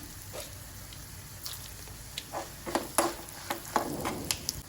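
Two tablespoons of coriander seeds roasting in a pan with a little oil for a radish masala gojju. A quiet bed of faint frying carries sparse, sharp crackles and pops that grow more frequent toward the end, with no voices.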